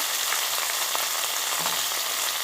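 Vegetables for sambar, including potato, lightly frying in a pan, a dense, even hiss of close sizzling oil with a few faint stirring touches and no voices.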